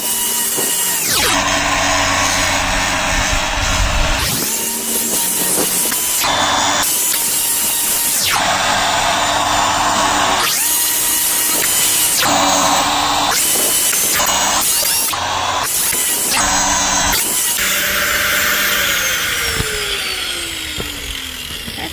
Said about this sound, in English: grab a grinder, grind down the edges, make it a bit smooth